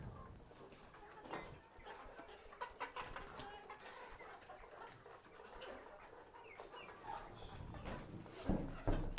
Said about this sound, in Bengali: এই হচ্ছে এখানের মুরগির অবস্থা